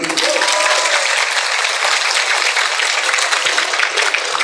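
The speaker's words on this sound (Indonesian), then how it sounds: "tepuk tangan untuk para santri" Loud, steady applause from a crowd at an Islamic sermon fills the whole stretch, dense clapping with a faint voice briefly underneath at the start.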